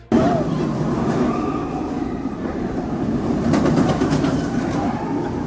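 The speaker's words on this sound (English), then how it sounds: "featuring a masterfully placed B&M invert. It's Black Mamba" A B&M inverted roller coaster, Black Mamba, at Phantasialand, running past: a loud continuous rumbling roar of wheels on track with rattling clatter, close and steady throughout.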